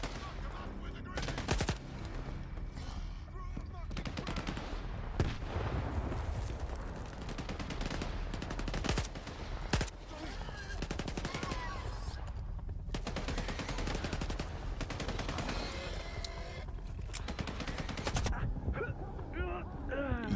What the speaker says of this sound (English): Then I hear gunshots.